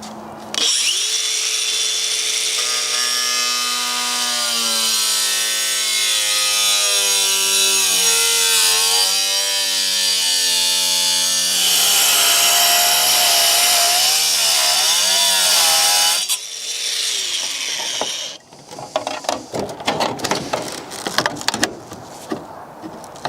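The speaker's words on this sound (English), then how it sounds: "the angle grinder, cut out a small section" An angle grinder cuts through the bonnet latch area of a crash-damaged scrap BMW, a loud sustained metallic whine with wavering pitch as the disc bites, then a stop and scattered clunks and rattles.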